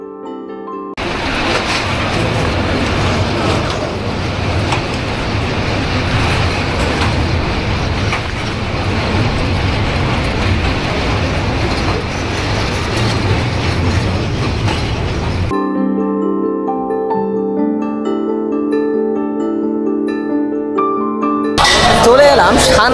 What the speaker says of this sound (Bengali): চলে এলাম সান্তাহার রেলওয়ে স্টেশনে।